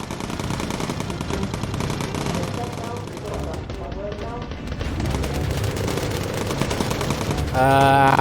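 Gunners aboard a bomber in the video game Bomber Crew fire steadily, a dense, continuous rattle of gunfire layered with game music and effects, swelling louder near the end, with a voice talking over part of it.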